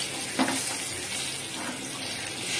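Pomfret fish frying in oil in a pan at home, a quiet steady sizzle with one brief knock early on.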